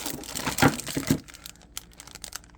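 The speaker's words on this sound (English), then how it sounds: "Another plastic baggie." A plastic baggie from a 1/28 scale RC car kit crinkles as it is handled and opened, with a loud burst of crumpling up front followed by fainter, scattered crackles.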